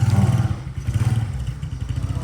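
A farm machine's engine in rain-soaked Punjab fields chugs to life with a loud, close, rhythmic low throbbing that pulses steadily throughout.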